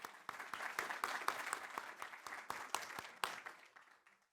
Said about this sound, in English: How about another round of applause for those first 3 presentations?